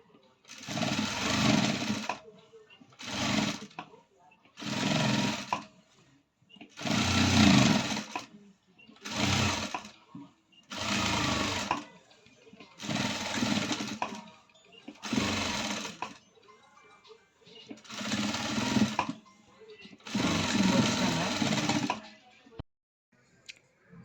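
A sewing machine stitches a princess cut blouse in about nine short, regular bursts of whirring, each lasting one to two seconds with brief pauses between them and nothing else heard.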